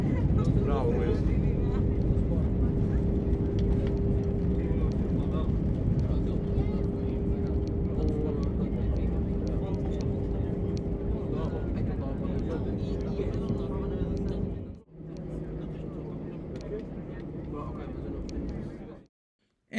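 Inside the cabin of an Airbus A319 taxiing at night, a loud, steady engine and airflow roar rumbles on with a faint sustained tone riding over it, then briefly dips before carrying on and cutting off abruptly; voices talk under the roar.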